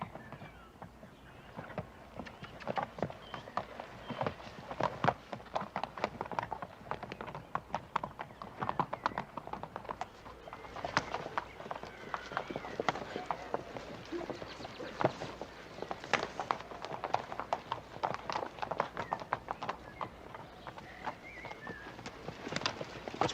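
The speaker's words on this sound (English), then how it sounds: "That's one of the horses." Horse hooves clop unevenly in a western setting, with scattered clip-clops and shuffling steps at moderate distance and an occasional faint whinny, mostly without speech.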